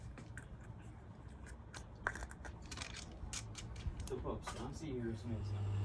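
A Merrow MG-2DNR-1 sewing machine, freshly oiled, gives a few mechanical clicks and handling noises, then its motor spins up into a steady, rising hum toward the end.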